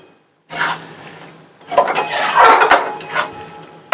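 A splash of water poured into a hot pan of chilli mushroom brings a loud, close rush and hiss with some pan clatter, swelling over a few seconds after a brief silence.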